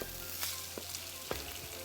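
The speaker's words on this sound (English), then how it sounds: "So just keep stir frying it" Marinated chicken breast sizzling as it is stir-fried in a pan on low heat, a steady close frying hiss broken by a few louder crackles as the pieces are stirred, with no talk.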